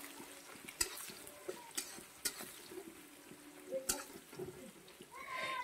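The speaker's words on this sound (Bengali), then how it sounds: "পেঁয়াজটা একটু লাল লাল করে ভেজে নিলেই ভালো হয়" Chopped onions fry in a pan with a faint continuous sizzle, broken by intermittent scraping and clacking as a utensil stirs them.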